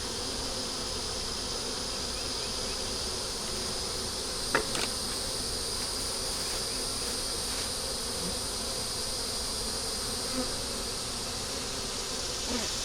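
Honey bees swarm around an opened hive during an inspection, a dense, steady buzz filling the air without pause, with a few brief louder passes close by.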